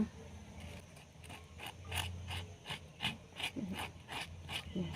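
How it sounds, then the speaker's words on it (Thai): Rhythmic scraping as a spoon rubs the white pith from the inside of a halved bitter gourd, about a dozen short, even strokes close up with no talking. "เนี่ยเราจะขูดเส้นขาวๆตรงนี้ออกให้หมด มันจะได้ไม่ขม"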